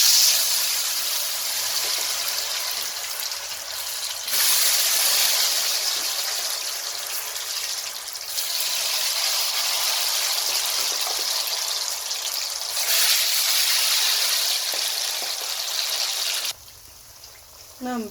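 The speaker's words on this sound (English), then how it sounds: "Now I'm going to deep fry them." Potato slices seasoned with turmeric and black pepper deep frying in hot oil, a steady broadband sizzle and hiss that swells and eases in waves, close and continuous, with a brief drop near the end.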